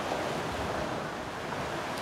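Sea waves wash and splash on the shore in a steady, close rush of surf, with no voices present.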